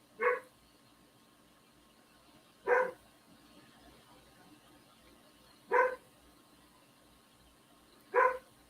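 A dog being pet-sat barks in the background, four single sharp barks spaced a few seconds apart, moderately distant, with quiet room tone between them.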